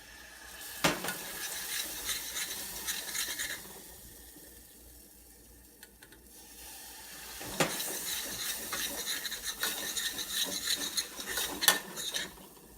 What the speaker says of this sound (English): Now it is ready to add the milk.